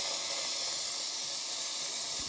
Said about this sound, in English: You just open the valves, the steam wand valves on both these machines.